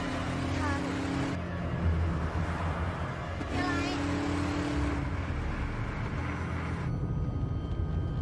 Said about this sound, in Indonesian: Dia pun menancapkan gas sampai-sampai membuat Jen kebingungan.